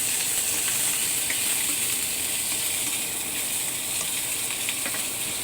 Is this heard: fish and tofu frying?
yes